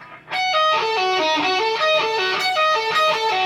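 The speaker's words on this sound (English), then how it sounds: "so that's your diminished arpeggio" Quick picked electric guitar notes of a string-skipping diminished arpeggio run up and down in an even pattern, bright and close, with no talking.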